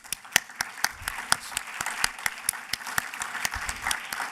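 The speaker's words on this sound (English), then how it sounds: "please join me in giving a big round of applause" A conference audience applauds a panel at a maritime and ocean sustainability event, with sharp individual claps standing out over a softer, steady patter of hands in a hall.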